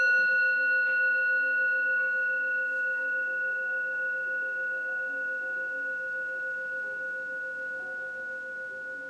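A single bell struck once to close a restorative yoga session, its clear sustained tones ringing on and slowly fading over several seconds in a quiet room.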